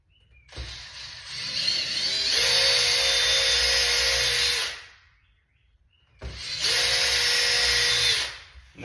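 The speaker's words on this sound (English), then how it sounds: "we're gonna drill our holes here. I'm gonna start with just a small pilot bit here" A power drill with a small pilot bit bores shallow holes into a cabinet door panel made from an IKEA drawer front, running in two sustained whining bursts with a pause between them, close and loud with no talking.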